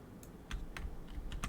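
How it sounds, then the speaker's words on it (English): Keys clicking on a computer keyboard during Blender sculpting work, a quick run of sharp taps at an irregular rhythm, close and fairly quiet, with no talking. "press Control on your keyboard"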